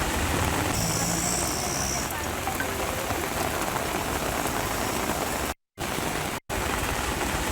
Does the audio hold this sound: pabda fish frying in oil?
no